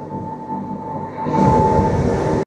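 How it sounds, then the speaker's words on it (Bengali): A Swiss mountain train on the Eiger Glacier to Kleine Scheidegg line rolls slowly downhill through a curve, a steady rumble with a faint hum that swells louder partway through before cutting off abruptly. "ট্রেন আস্তে আস্তে কার্ভ নিচ্ছে, আমরা একদম ওপর থেকে ধীরে ধীরে নিচে নামবো"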